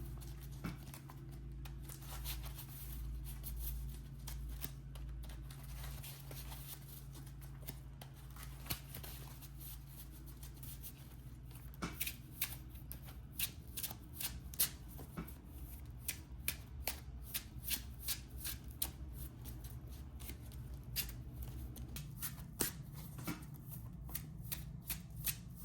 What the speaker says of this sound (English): All right, deck is shuffled.